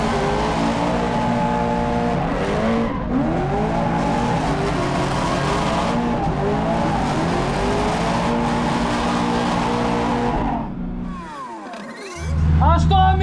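A race car is driven hard around a new track in Druskininkai, its engine close and loud, revving up and down through repeated gear changes before easing off near the end.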